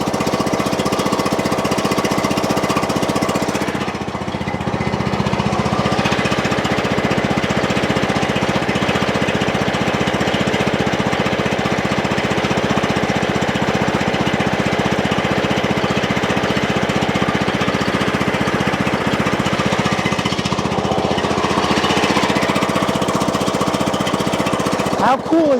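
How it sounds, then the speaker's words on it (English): An old Snapper riding tractor engine runs steadily while warming up, a loud, close, continuous chugging drone that dips briefly early on and then carries on evenly to the end. "Let's warm this engine up a little bit."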